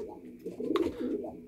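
Pigeons coo close by with soft, low, rolling calls that repeat through the short stretch, and a faint voice is heard underneath.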